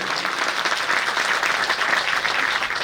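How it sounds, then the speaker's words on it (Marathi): An audience at a family housewarming ceremony breaks into dense, sustained applause, many hands clapping together in a steady wash of sound at even loudness. "तुम्ही जरा एकदा जोरदार टाळी होऊनच जाऊया"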